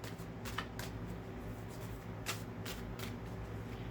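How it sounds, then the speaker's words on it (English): A deck of cards is shuffled close up, with crisp riffling bursts and quick snaps repeating irregularly over a low steady room hum. "Give these a good shuffle."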